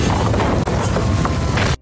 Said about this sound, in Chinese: 而且山洞还发生了爆炸